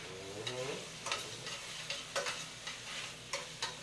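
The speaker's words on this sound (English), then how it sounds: "And you can hear it sizzling right now" Baby kale and roasted tomatoes sizzle in a hot pan, a steady soft frying hiss broken by a few sharp crackles and stirring clicks, fairly quiet with no talking.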